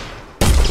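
Gunfire from a rapid shooting demo in an Unreal Engine 4.26 game project bursts in suddenly and loudly after a quiet lead-in, a dense, sustained volley close up with no voices.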